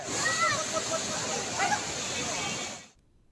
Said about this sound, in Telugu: తమిళనాడులోని కుర్తాళం జలపాతం ఒక్కసారిగా ఉప్పొంగింది.